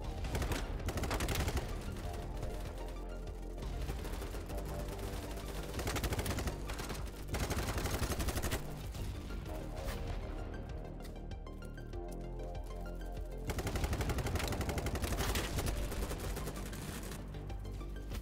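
Gunfire in the shooter game Battlebit Remastered comes as dense bursts of rapid automatic shots with brief lulls between volleys, loud and continuous over about eighteen seconds.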